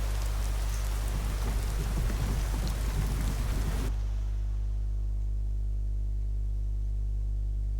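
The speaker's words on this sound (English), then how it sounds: "It's chucking it down with rain" Heavy rain falls with rumbles of thunder in the video game Skyrim. The downpour is loud and constant, then cuts abruptly to a quieter, steady hiss of rain and a low hum.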